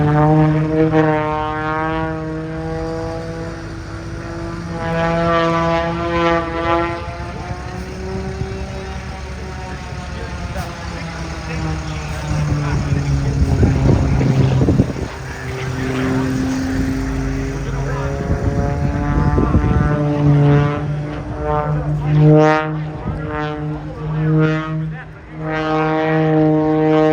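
An Extra aerobatic propeller airplane, designed by Walter Extra in Germany, flies at the Oshkosh airshow with a loud, droning engine whose pitch rises and falls as it passes and maneuvers, while a person talks at times over the noise.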